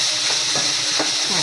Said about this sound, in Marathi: असं मस्त कांद्यामध्ये परतून घ्यायची तिला